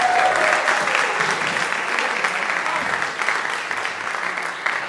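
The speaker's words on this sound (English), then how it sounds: "Give him a round of applause." An audience breaks into steady applause for drummer Darren Douglas at a summer jazz workshop symposium, dense clapping sustained at full strength throughout and tapering only slightly near the end.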